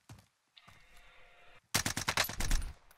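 Video game gunfire shooting through a building: after a short tone and a pause, a rapid loud burst of automatic shots rattles off in a tight rhythm, close and sharp.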